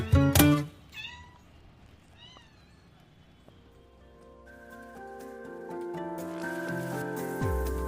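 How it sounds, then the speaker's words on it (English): Cat meowing in Kennedy Park in Lima: a loud meow up close at the start, then fainter meows and chirps over quiet outdoor park ambience, with sustained musical tones rising in the second half. "at very least, you'll find a cat"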